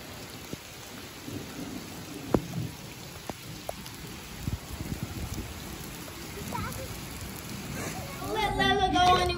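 Steady rain patters on a surface at a lake, with a few sharp drips and knocks, and people talking over it toward the end.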